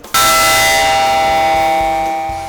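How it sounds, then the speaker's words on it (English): A Padres bell is struck once to start a softball game, giving a loud, bright clang that rings on with a long, slowly fading metallic tone, close by and alone. "got to ring the Padres bell to signal the start of the game"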